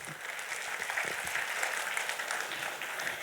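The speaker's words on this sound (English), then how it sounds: "all of you deserve a big round of applause for that" A convention hall audience applauds at a moderate, steady level, with even, continuous clapping and no voices on top.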